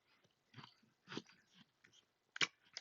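Crunchy, juicy watermelon being chewed, heard as several close, crisp bites and munches in irregular bursts with short quiet gaps between them.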